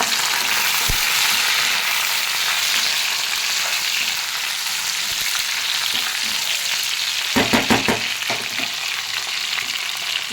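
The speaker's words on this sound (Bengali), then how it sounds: "এবার আমি একটু টমেটো কেটে রেখেছি, টমেটোটা নিচে দিয়ে দেবো।" Chicken chap frying in a pan sizzles loudly and continuously as chopped tomato goes in, with a few stirring scrapes and clatters partway through, close and without any voices.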